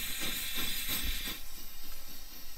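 A blue flame from a gas stove burner roars with a steady, breathy hiss and faint pulsing rumble, heard up close with no talk.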